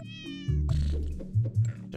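A cartoon cat in the puzzle game Cats Organized Neatly lets out a high meow, followed by someone speaking briefly under low game tones.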